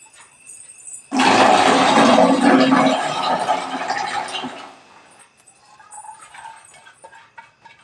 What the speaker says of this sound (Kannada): ಇದನ್ನ ಮಿಕ್ಸಿ ಜಾರಲ್ಲಿ ರುಬ್ಕೊಂಡ್ಬಿಟ್ಟು ಬರ್ತೀನಿ